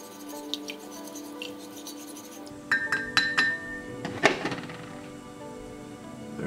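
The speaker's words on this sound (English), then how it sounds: "Give it a stir." A shovel spoon stirs Australian Defence Force ration food inside a pouch or tin, giving soft scraping followed by a run of sharp clinks and knocks in the middle, close and fairly quiet, with no voice heard.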